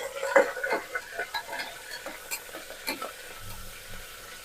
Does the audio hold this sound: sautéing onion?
yes